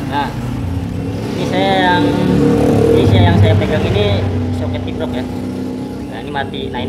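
A Honda Beat FI scooter with an ignition fault starts and runs at a low, steady idle while a mechanic wiggles the regulator socket wiring, the engine hum swelling mid-way and then settling under ongoing talk.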